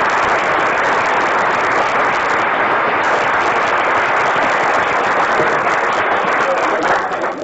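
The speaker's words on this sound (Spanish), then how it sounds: "Para ellos pido un fuerte aplauso." An audience applauds at the inauguration of a new building, with loud, dense clapping that stays steady and close throughout.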